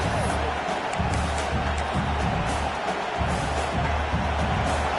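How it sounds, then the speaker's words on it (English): A stadium crowd roars in a college football video game, a dense, sustained wash of cheering noise throughout, with a commentator's voice talking over it. "The roar of the crowd trying to fuel this defense to keep them pinned in their own end."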